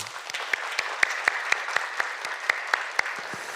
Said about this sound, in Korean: 우리 감사의 박수 드립시다.